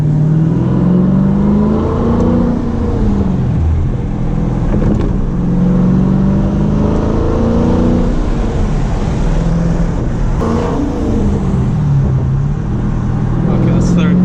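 A manual Dodge Challenger drives and revs, its engine note rising and falling through gear changes, steady and close throughout with occasional cabin clunks.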